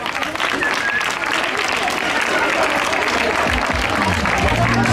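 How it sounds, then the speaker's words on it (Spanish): An audience applauds loudly and steadily at an outdoor children's rights event, dense clapping filling the whole stretch with crowd murmur beneath. "Un fuerte aplauso."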